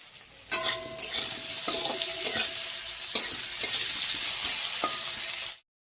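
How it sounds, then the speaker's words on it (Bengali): An egg poaching in hot oil in a home kitchen pan gives a bright, continuous sizzle broken by several stirring and scraping knocks, then cuts off abruptly. "এখন করছি ডিমের পোচ"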